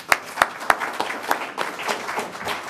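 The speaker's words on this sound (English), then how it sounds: "Let's give our candidates for Library Board Trustee a round of applause" A small audience gives a brief round of applause for Library Board Trustee candidates at a Park Forest municipal forum. A few sharp claps stand out at first, then the clapping settles into a steady, moderate patter that runs to the end.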